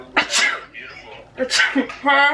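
A woman's staged sneeze amid casual chatter during a live video chat, one sharp burst followed by brief talking voices nearby.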